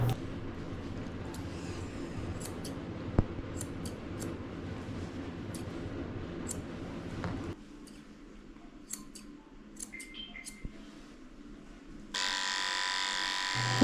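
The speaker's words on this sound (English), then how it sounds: "I'm also using my curved scissors to trim up his eyes so he can see again." Curved scissors snip around a Maltese dog's face and eyes in small, crisp, irregular cuts over a low steady hum, with a brief switch to a louder buzzing clipper near the end; no talk.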